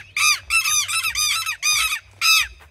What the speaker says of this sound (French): C'est des oiseaux qui attaquent